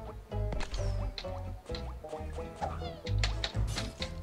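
Cartoon cats meowing in the video game Battleblock Theater, a rapid string of high, bright meows and mewls over a busy game soundtrack, with bouncy effects mixed in.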